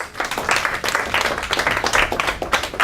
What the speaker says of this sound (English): All right, everybody, applause.